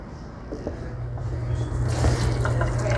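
Water runs steadily from a kitchen sink tap, a continuous close splashing stream that builds slightly louder toward the end, with no talking.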